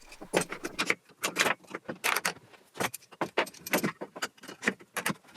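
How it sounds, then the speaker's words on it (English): Clamps being fitted to hold a bowed workpiece down on an MFT table: a run of quick metallic clicks and rattles, close and fairly loud, comes in irregular bursts with short pauses between them, with no talking. "I'm adding a couple of extra clamps to keep it snugged down to the MFT surface"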